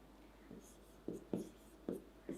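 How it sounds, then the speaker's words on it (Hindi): Marker or chalk strokes on a classroom board during an organic chemistry lesson, a series of short scratchy bursts at an irregular pace, close and fairly quiet, with no talking over them. "तो चलो अब इसको एक साथ लिख देते हैं।"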